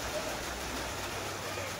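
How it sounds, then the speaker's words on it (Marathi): Heavy rain pouring steadily outdoors during a family village trip, a dense, even hiss filling the whole clip close to the microphone, with no pause or break. "भाई जोरात पाऊस आला"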